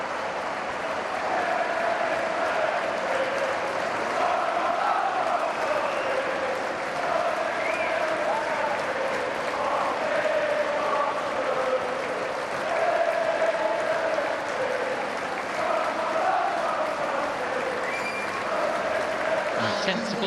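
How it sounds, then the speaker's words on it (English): Home supporters at a West Bromwich Albion versus Sheffield United Championship match applaud a substituted player, a broad, sustained wash of stadium clapping lasting about twenty seconds beneath a commentator's voice. "goes off to the applause of the home supporters"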